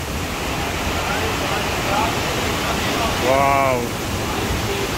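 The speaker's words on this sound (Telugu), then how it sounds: "అసలు ఆ పై నుంచి వస్తున్నాయి గ్లేషియర్ నుంచి వాటరు." Glacier meltwater stream rushing near Kedarnath temple in the Himalayas: a loud, steady broadband roar of water throughout, with a brief exclaiming voice on top.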